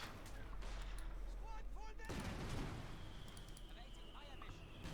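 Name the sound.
mortar fire in video game Company of Heroes 2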